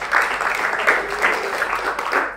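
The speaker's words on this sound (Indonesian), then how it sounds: "Saya senang tepuk tangan ini" A church congregation applauds in a steady, dense wash of clapping with gentle swells, moderately loud and close, with no clear talk over it.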